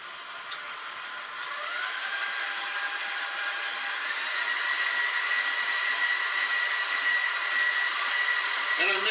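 An electric mixer runs steadily on medium, beating brown and white sugar in a bowl, a continuous high whirring drone that holds even from start to finish.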